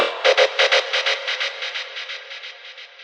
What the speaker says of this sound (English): I added a bounce of the drop synths and then made them slowly fade in with effects like delay, reverb